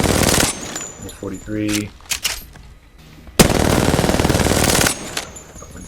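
Rapid automatic gunfire in Apex Legends aim training, loud bursts of shots with a brief pause midway, then a long sustained burst, while a voice speaks briefly.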